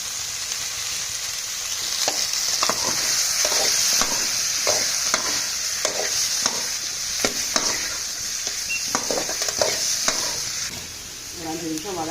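Chopped mushrooms sizzle steadily in a hot pan while a spoon stirs them in regular scraping strokes, a constant hiss under the clatter.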